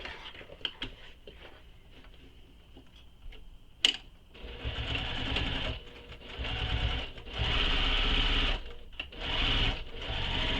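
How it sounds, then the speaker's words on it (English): A sewing machine stitches a seam on a Betty Bow Bag, running in steady bursts with brief pauses, close and moderately loud, after a few light clicks of handling. "Now I'm going to stitch these using the seam allowance given in the pattern."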